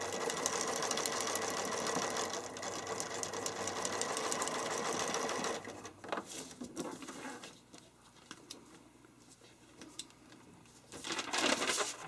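A sewing machine stitches fabric in a fast, steady needle rattle for about five seconds, stops, and then starts again in a short burst near the end, with quiet handling of the cloth between runs.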